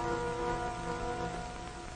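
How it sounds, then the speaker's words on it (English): Heavy rain falls in a steady, dense wash over a river valley, continuous throughout with sustained tones running underneath. "Rain. Rain for more days, days running into weeks."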